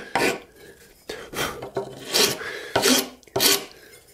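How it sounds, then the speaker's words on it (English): A hand file smooths a wooden hand plane tote handle in six distinct rasping strokes, each a close, scratchy rub separated by brief pauses. "This file will leave a much smoother texture, so I'm just going to slowly work through this."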